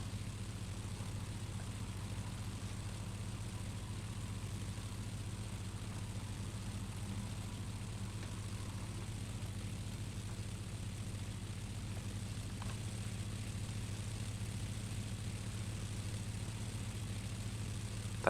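A Spitfire Mk.I engine idles, heard from outside the aircraft in the X-Plane 10 flight simulator, as a steady, low, droning hum that continues unchanged and fairly quiet, with no talking.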